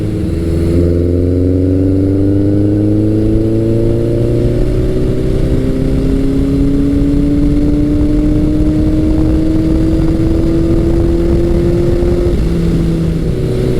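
A classic Suzuki GS1100 or Yamaha XS1100 motorcycle engine drones steadily and loudly at about 3,700 RPM and 60 mph, its pitch slowly climbing as it pulls under load, with constant wind rumble.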